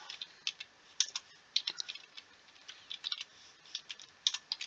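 Someone types on a computer keyboard, a steady run of quick, light key clicks in irregular bursts with brief pauses, close and clear and with no talking.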